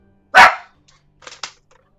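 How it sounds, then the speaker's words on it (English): A dog in the video game Travellers Rest gives one loud, close bark, followed by a few faint, short scuffs and yips. "Hi, dog."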